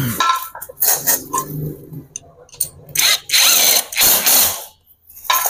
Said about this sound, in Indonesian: Ini kita ikat baut ini dengan 10. Kita pakai impact supaya cepat pengerjaannya.